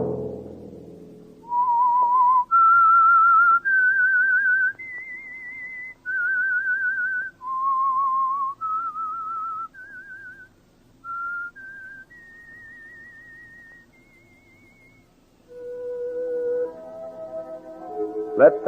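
A lone whistler carries a slow, wavering melody for The Whistler radio theme, held notes stepping up and down with slight vibrato, clear and close on an old broadcast recording.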